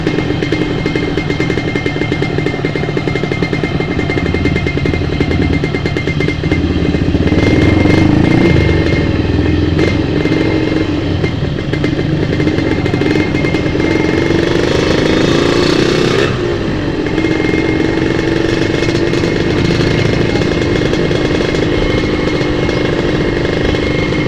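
A Yamaha RX King motorcycle with a worn-out exhaust runs while being ridden, its engine a loud, continuous two-stroke drone that swells briefly as it revs, with the rider close to the machine throughout.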